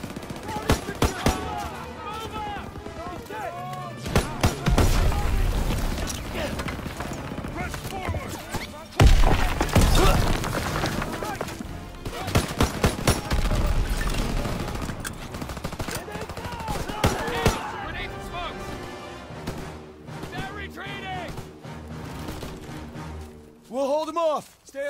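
Gunfire in Call of Duty WWII, repeated bursts and single shots with heavy booms and thuds, loud and close, over shouted talk and battle noise across the whole stretch.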